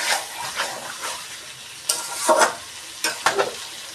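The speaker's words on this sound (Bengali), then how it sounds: "একটু নাড়াচাড়া করে" A chicken curry sizzles in a pan while a spoon stirs it in irregular strokes, with louder scraping bursts near the end of the close, steady frying hiss.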